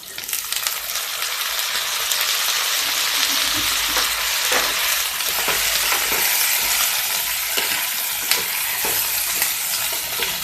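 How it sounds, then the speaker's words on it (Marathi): Cluster beans stir-fried in a pan with a loud, steady sizzle, and a spoon occasionally clinks and scrapes against the metal as the beans are tossed. "गवार घालून परतायचं आहे।"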